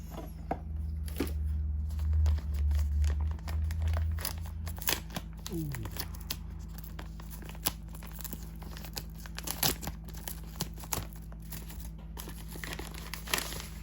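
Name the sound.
unboxing DJI Osmo Action 5 Pro packaging, crinkling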